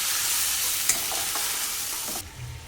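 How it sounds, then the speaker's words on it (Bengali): Ground spice paste of chilli, cumin, garlic and ginger frying in a pan, a loud continuous sizzle with a few stirring knocks before the hiss suddenly drops away near the end. "মশলাটাকে দেখো খুব ভালো করে একটু কষিয়ে নেব"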